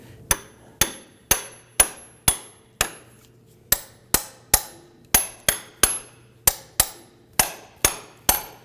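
A wedge-shaped fork is driven between the CV axle and transmission of a 2008-2011 Ford Focus with about eighteen sharp, ringing metal hammer blows at a steady, close, loud rhythm, briefly pausing midway.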